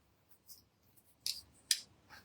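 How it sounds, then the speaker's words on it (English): Sharp scissor snips from a stylist refining a short layered women's haircut with the scissor points, two crisp close cuts with faint softer snips around them in a quiet room. "going back over with the point of my scissors"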